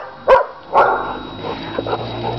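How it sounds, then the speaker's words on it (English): A dog barks twice, loud and close, followed by softer whimpering yips and low background noise. "That other barking, there's a dog behind me."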